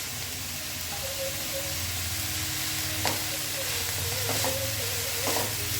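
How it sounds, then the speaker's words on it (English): Beans, potatoes and carrots sauté in a pan with a steady soft sizzle, broken by a few light scrapes and clinks of stirring. "and saute it well"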